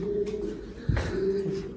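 Pigeons in a loft, some sitting on eggs, give a soft low coo in the middle against a quiet background hum.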